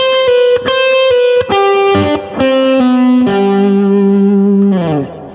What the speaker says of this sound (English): he plays this beautiful arpeggio lick